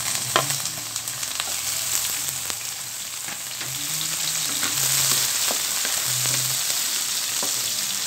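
Shrimp, shells left on, frying in a pan with sautéed aromatics: a steady close sizzle with crackles and pops, stirring scrapes now and then, and no talking.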